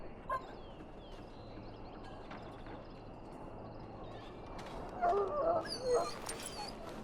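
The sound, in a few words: dog whimpering in a pen, from video game Dragon Age Origins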